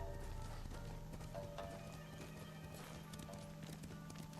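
A horse in Ghost of Tsushima, clip-clopping hooves and faint neighing set low beneath a dense game soundscape of ambience and music.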